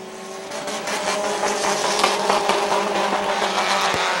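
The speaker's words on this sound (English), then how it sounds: "Five cars left on the raceway." Compact race cars roar around a speedway in a continuous, loud blur of engine noise with steady revving and no talk.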